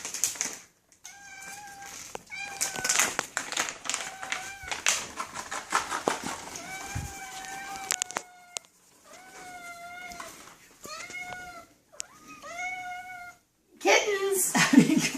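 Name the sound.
kittens meowing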